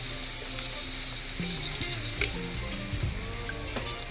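Pansit noodles with vegetables stir-frying in a hot pan as a splash of oyster sauce goes in: a loud, continuous sizzle close by, with scattered clinks and scraping from stirring.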